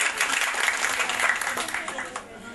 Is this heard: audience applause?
yes